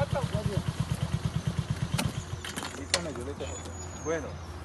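A motorcycle engine idles with a rapid, even putter that cuts off after about two seconds, followed by a nearby voice speaking and light background noise.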